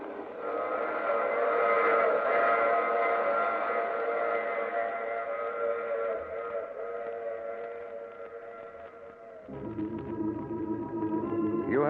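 A train rumbles steadily with a sustained whistle-like tone, shifting near the end into a louder mechanical clatter; no voices. From an old radio drama.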